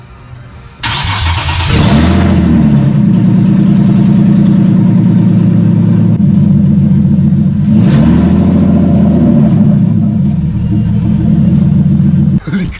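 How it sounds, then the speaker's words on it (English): Nissan 370Z running on headers only with no cats or exhaust past them: a loud start-up crack, then a harsh, raspy idle broken by two sharp revs, very close and dominant. "I might start the car up now, see what it sounds like just from the headers"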